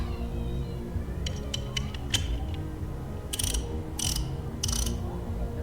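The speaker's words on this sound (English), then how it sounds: "3 1/4 turns clockwise to lock the back panel in place." A ratchet mechanism in a video game turns to lock a back panel in place, with clicking ratchet ticks followed by three loud grinding bursts of gears over a low mechanical hum, no voices.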